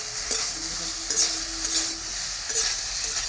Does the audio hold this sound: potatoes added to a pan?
yes